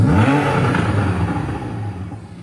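A car engine sound from a played song's intro, a loud close rumble that whirs and revs, then slowly eases off as it fades.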